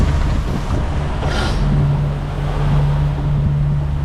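A boat crossing the Mooloolaba bar in swell slams into ocean waves, heard as a steady, loud rush of water and wind buffeting over a low, continuous engine hum, with a brief splashy surge partway through.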